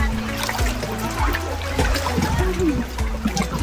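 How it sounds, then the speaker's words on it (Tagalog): Water waves sloshing inside a cave, close splashing and trickling with rumbling low surges and echoing drips, fairly loud throughout. "Tapos may alon sa loob."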